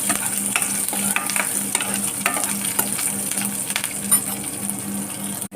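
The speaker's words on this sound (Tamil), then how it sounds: "இதில் கருவேப்பிலை போட்டுருவோம் இது நல்லா கொஞ்சம் வதங்கட்டும்" Curry leaves fry in oil for an eggplant kara kuzhambu, a continuous close sizzle with scattered clinks and scrapes of a spoon against the pan, no voices.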